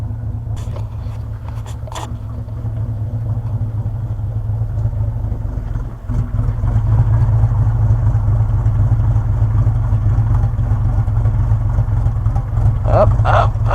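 A Ford Econoline van with a swapped-in diesel engine idles with a steady low rumble that grows slightly louder partway through, with a few faint knocks and clicks on top.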